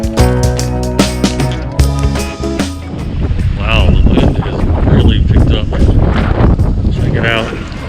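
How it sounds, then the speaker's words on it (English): Strong wind gusts buffet the microphone at a Southern California park lake, a loud rushing roar that swells and overwhelms everything, following a stretch of music. "the wind really started to pick up. It got to the point where it became difficult to hear me speak over these strong gusts of wind"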